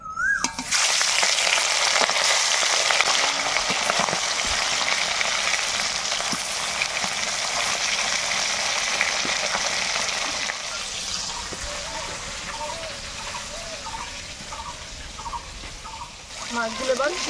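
Fresh sea fish fry in hot mustard oil with a loud, continuous sizzle and crackle that eases slightly toward the end, with light scraping and a brief higher sound near the close.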